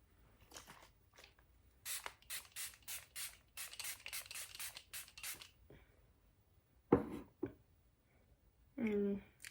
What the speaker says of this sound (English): set your makeup with a setting spray